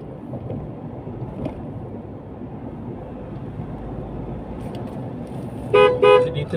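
A vehicle horn honks twice in quick succession, loud and close, near the end, over steady road and engine noise from a Ford driving on a road from Caticlan in Malay, Aklan, toward Antique.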